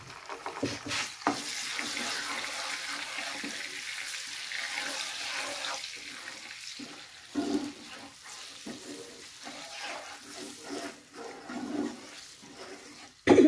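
Psyllium husk (ispaghol) halwa cooks in a spoonful of ghee, giving a soft, continuous sizzling hiss with occasional stirring scrapes and light knocks, fairly quiet and without voices.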